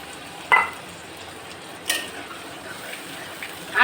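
Fried singi fish goes into a simmering, watery curry, giving a steady, soft bubbling sizzle with a few louder splashes and stirring bursts close by.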